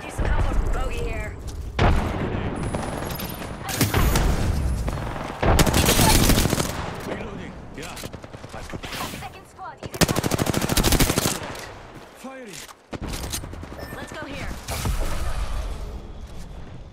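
Gunfire in the video game Apex Legends, repeated bursts of automatic fire and sharp shots in clusters, loud and close, alternating with quieter gaps while a player talks throughout.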